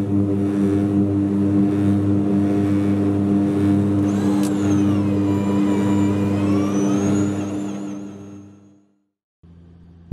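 AVIRIS-NG research aircraft on its takeoff run, with a loud, steady engine and propeller drone carrying strong humming tones that rise slightly in pitch, then fade away and cut off abruptly near the end.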